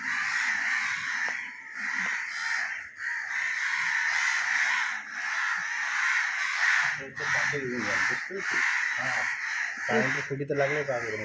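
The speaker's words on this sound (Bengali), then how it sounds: "আর সব কাক কেমন কান্না করছে।" Many crows caw loudly and continuously in a noisy flock after a cat has caught one of them, harsh calls overlapping, while people talk underneath in the later part.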